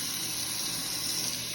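Hot water pouring steadily to dissolve a strawberry watermelon drink mix, a continuous close rushing gush with an even, unbroken flow and no talking.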